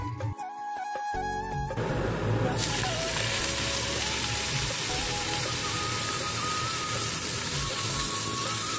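Food sizzles and fries steadily in a hot pan in a village kitchen, a continuous close hiss after a brief clatter at the start, with no voices over it.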